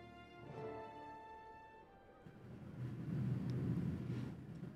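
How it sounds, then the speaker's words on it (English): Distant thunder outside a room rolls in as a low, swelling rumble that builds and lingers, faint beneath a soft sustained musical tone from indoors. "Wow, it's thundering IRL."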